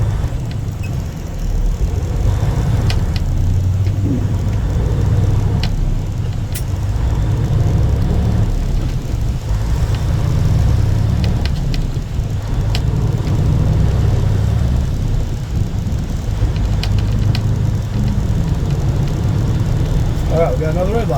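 A truck with a 10-speed Eaton Fuller transmission coasts in traffic, its engine giving a steady low rumble throughout, with someone talking over it.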